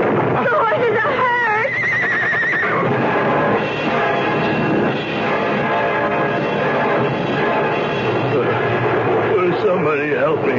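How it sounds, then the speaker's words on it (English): Horses whinny and neigh in a radio drama set in ancient Pompeii, several loud wavering calls over a dense, busy crowd scene where voices shout and talk throughout. "The two runaway horses."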